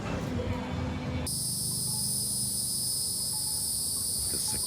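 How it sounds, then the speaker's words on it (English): Cicadas drone outdoors in a loud, steady high-pitched buzz that starts abruptly and holds without a break, with faint low rumbling and traffic-like noise underneath. "The cicadas are out."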